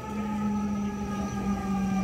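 A steady wailing emergency siren sounds outdoors, a sustained tonal drone held at moderate volume with no speech over it.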